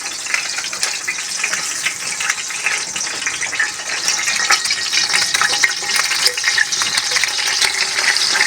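Sliced onions frying in ghee for daal mash, a continuous bright sizzle with stirring scrapes, steady and close throughout.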